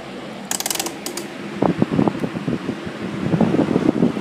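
A Sunbeam 5-speed stand fan runs with a steady whirring hum, punctuated by clicky switch and ratchet-like clacks as it is shifted from low back up to high; no talk over the mechanism.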